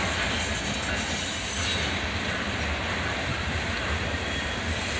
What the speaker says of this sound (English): A Canadian National Anniversary Unit leads this pair of sd40-3s.